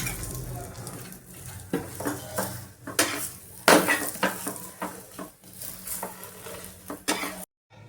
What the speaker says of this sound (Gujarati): તેલ આવી રીતના લગાવી બદામી રંગનું શેકી લેવાનું છે